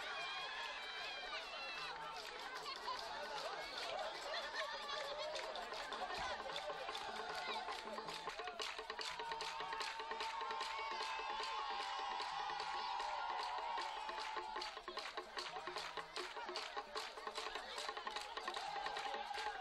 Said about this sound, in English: Individual dancers display their virtuosity and speed in response to an electrified, hand-clapping crowd.